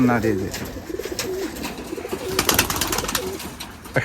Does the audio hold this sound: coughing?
no